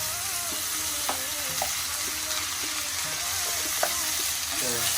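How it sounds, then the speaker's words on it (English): Ground beef mince frying in a pan for lasagne, with a steady close sizzle and occasional scraping, clacking strokes of a utensil breaking it up and stirring throughout. "now you're just gonna break up the mince and everything, and stir it"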